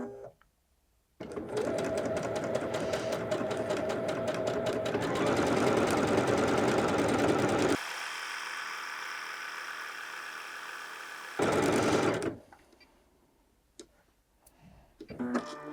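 A Bernette b77 sewing machine runs steadily through a stippling stitch on a quilt, a loud close whirring with a rhythmic ticking that shifts in pitch midway, surges briefly, then stops.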